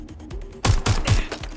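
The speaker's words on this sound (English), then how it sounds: "I'm shooting them around the corner." Gunfire in the video game Watch Dogs Legion: after a few quieter taps, three loud, evenly spaced shots ring out in quick succession, each with a heavy low thump.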